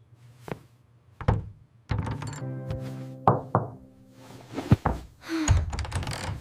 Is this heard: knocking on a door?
yes